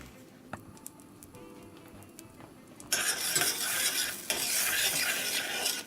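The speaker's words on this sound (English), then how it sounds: "So we're melting the 1/4 cup of butter" Butter melting in a pan over low heat for macaroni and cheese, a quiet start with faint clinks, then a louder steady sizzle and stirring rustle that swells and carries on to the end, without voices.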